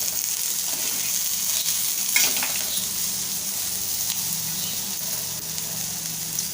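Chicken liver fry (masala kaleji) with coriander and curry leaves stirred in a hot pan: a loud, steady sizzle fills the whole stretch, with a few faint scrapes of stirring and no talk.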